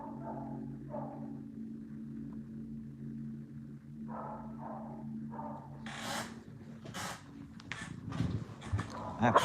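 A pet dog barks and whimpers in the background of a room, short intermittent yelps building toward the end over a steady low hum, with some talking mixed in.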